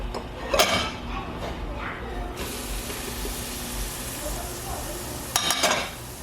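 Achar masala frying in hot oil for a Trini-style sweet mango chutney, a steady close sizzle and hiss with a few sharp clatters of stirring or pan contact near the start and end.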